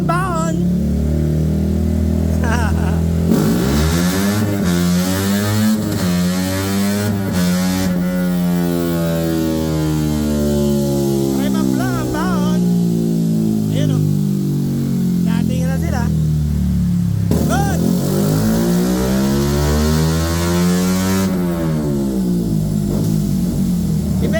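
A Yamaha Sniper v3 motorcycle engine revs hard during a remap, climbing and falling in long repeated sweeps, loud and close, while people talk over it.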